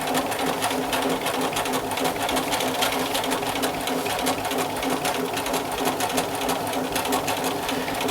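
A sewing machine stitches a fabric roll kit, its steady, fast needle chatter running close and loud without a break for the whole stretch.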